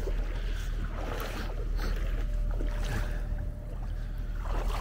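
A steady low mechanical hum of a boat engine on the water, constant and fairly loud, with wind and water noise around it.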